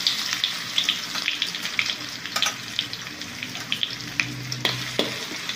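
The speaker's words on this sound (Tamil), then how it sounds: "எண்ணெய் சூடாயிட்டோன்னே முதலில் நம்ம என்ன செய்யணும், இஞ்சி பூண்டு முதலில் போடுவோம்." Ginger and garlic sputter in hot oil for a clam dish, a close, busy sizzle broken by stirring scrapes and sharp crackles. Running water trickles faintly underneath and no one speaks.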